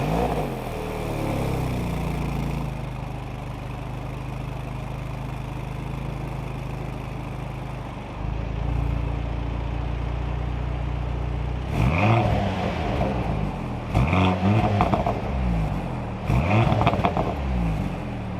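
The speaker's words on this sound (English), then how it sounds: "So we're now behind the wheel of the 2023 Mercedes Benz C43 AMG." Steady engine and road noise from inside a 2023 Mercedes-Benz C43 AMG on a test drive, with a low, continuous hum that steps up in level partway through and brief louder swells of acceleration near the end.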